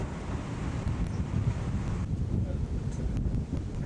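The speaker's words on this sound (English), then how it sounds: "There's a strong trade wind blowing from the ocean." Strong trade wind blowing in off the ocean on a Polynesian atoll batters the microphone with continuous rough, loud gusting noise and no clear pauses.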